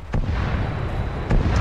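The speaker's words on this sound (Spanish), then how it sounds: "Tal y como podéis ver, están lloviendo por ahí tiros." Gunfire in the video game Arma 3, a couple of booming shots and blasts, distant, rumbling and loud, set against a constant low battlefield rumble.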